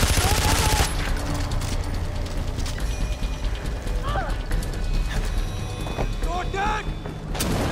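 Gunfire from weapons in the video game Far Cry 4, dense rapid bursts and clattering mechanical shots running continuously over busy game sounds and music, loud and close throughout.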